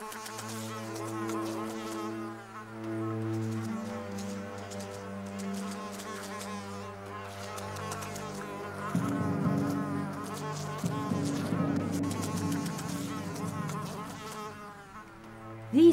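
Aedes aegypti mosquitoes buzz in Singapore with a steady, layered droning whine that continues throughout, swelling slightly louder in the second half.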